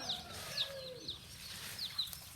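Farm ducks giving a handful of short, evenly spaced quacks, fairly faint and slightly distant over a low outdoor rumble.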